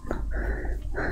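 The dog companion in the video game Fable III gives a brief, close, rough vocal sound, more a growling, breathy huff than a clear bark, lasting about a second.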